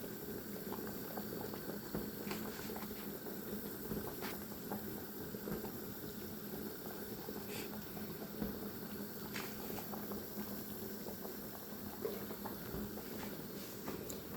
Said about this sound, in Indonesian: Ini udah mendidih.